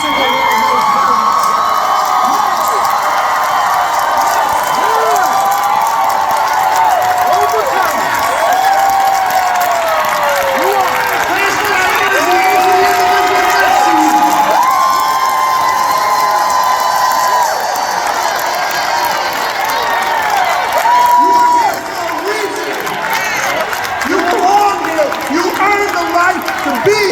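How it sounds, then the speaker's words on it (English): Conference audience in a large hall roaring with sustained cheering, whoops and clapping, loud and continuous, with a voice calling out over the crowd. "I want you to stand up and give yourself the biggest round of applause"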